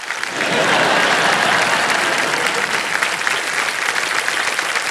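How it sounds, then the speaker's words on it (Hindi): Sustained applause from a studio audience at a televised quiz show, with the men in the crowd clapping first; dense, steady clapping that swells in quickly and holds loud throughout, with no speech over it. "जितने पुरुष बैठे हैं सबसे पहले उन्होंने ताली बजाई"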